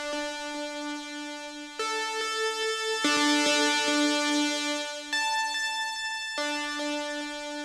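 Bright saw synth preset in FL Studio, heavily compressed with the Kremet plugin emulating OTT, playing sustained buzzy chords that change every second or two, loud and alone.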